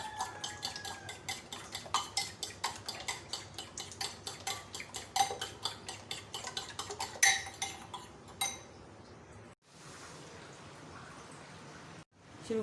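Eggs and spices are beaten in a bowl with a steady, quick run of metallic taps and clinks at a close, moderate level that stops abruptly, leaving a quiet room tone and one short break.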